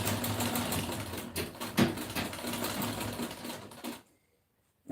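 A sewing machine stitches elastic onto a dress seam allowance, running as a steady rapid mechanical whir for about four seconds with a brief louder burst midway, then stopping abruptly into near silence.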